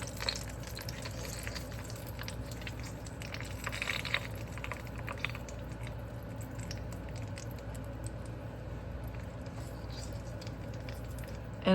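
Browned butter with crackling bits is poured into molds, giving a soft liquid patter and dripping against a steady low background hum, with no talk.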